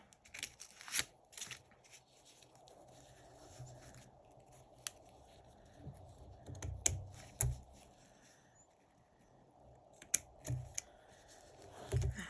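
Scissors trim a paper strip on a journal tag, giving several quiet, close snips and crisp paper rustles spread across a hushed room.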